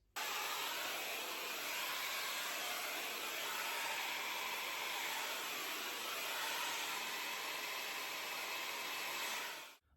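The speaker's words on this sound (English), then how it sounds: "this side I'm going to diffuse" A hair dryer fitted with a diffuser runs steadily and close by while drying curly hair, a continuous broadband whoosh lasting nearly the whole clip before cutting off at the end.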